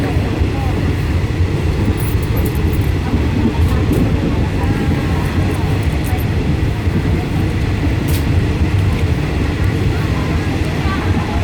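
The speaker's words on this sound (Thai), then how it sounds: "บนรถไฟที่กำลังวิ่งนะฮะ" Steady low rumble and rattling hum of a train interior in motion, continuous throughout, with faint voices in the background.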